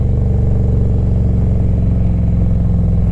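A 2006 Harley-Davidson Electra Glide Classic engine braking, its exhaust giving a close, loud, steady low rumble with a rattly, crackling edge running throughout.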